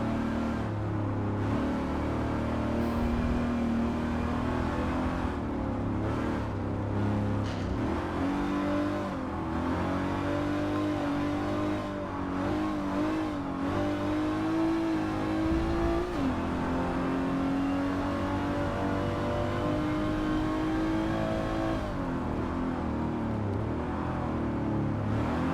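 Race car engines roar and rev steadily in a race in the video game Forza 7, with an older Porsche and a Firebird nearby. The drone is loud and constant, rising and falling with the gear shifts, and no one speaks.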